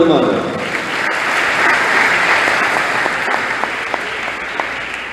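Applause from a church congregation at a Neocatechumenal Way Advent proclamation in Guayaquil, steady and dense throughout, with a few sharper claps standing out near the end.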